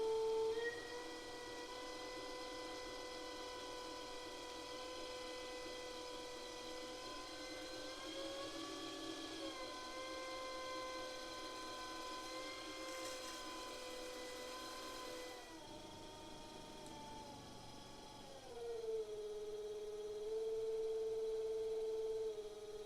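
A Vevor direct drive pottery wheel's motor hums steadily and tonally, its pitch shifting slightly as the speed changes and settling into a higher, steadier drone near the end.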